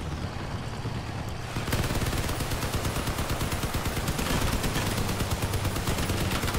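Machine gun fire in the vehicle combat game Crossout, starting after a quieter stretch with a steady engine rumble, then a continuous rapid stream of loud, close shots that keeps going to the end.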